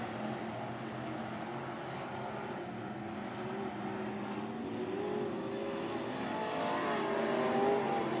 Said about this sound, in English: Meacham now continues to extend his lead over Wiles